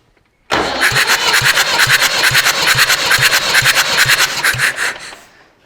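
A Massey Ferguson 65 tractor engine cranks on the starter for a compression test, a loud close rhythmic chugging that churns steadily for about five seconds without firing, then cuts off.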